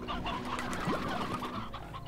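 Several hens in the video game Slime Rancher cluck and chirp continuously at moderate volume, with overlapping short calls and a brief rising squawk in the middle.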